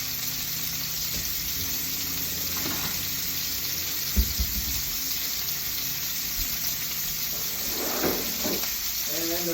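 Steaks frying in a pan, a steady hissing sizzle running throughout at moderate level, with a few clinks and brief scraping sounds near the end.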